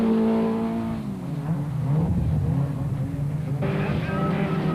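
A Ford race car engine in a 1997 Super Series race roars and revs hard, rising and falling in pitch as it accelerates past at close range.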